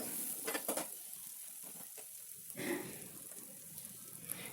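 Ivy gourd fry with curry leaves being stirred in a pan, a faint low sizzle with soft scraping and light utensil taps coming in bursts, quiet and close with no talk.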